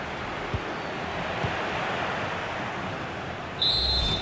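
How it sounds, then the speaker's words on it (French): A referee's final whistle sounds in the FC 25 football video game, a single short shrill blast near the end of a Real Madrid vs Juventus match, rising over the steady roar of the stadium crowd. "le coup de sifflet final dans cette rencontre"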